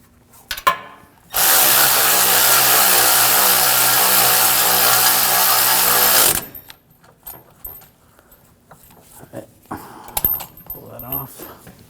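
A power tool running in one loud, steady burst of about five seconds, tightening the rear brake bolts on a 2006-2009 Audi S4 4.2L V8. Clanks and handling noises come before and after it, with talk at times.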